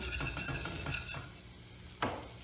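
Flour roux seasoned with salt and black pepper is stirred in a pan, soft scraping strokes in a quick rhythm, then a louder knock of the spoon, fairly quiet throughout.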